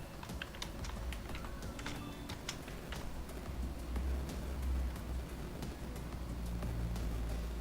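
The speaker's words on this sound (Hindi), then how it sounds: "अब फॉर एग्जांपल मैं अपने ही चैनल का नाम इसमें लिख देता हूँ।" Typing a channel name into a search box on a computer keyboard: a close series of crisp, irregular key clicks, with sparse clusters of taps over a low rumbling background and no speech.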